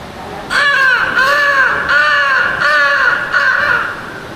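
A human voice imitates a crow, giving four or five loud, harsh caws in a steady rhythm, close and alone.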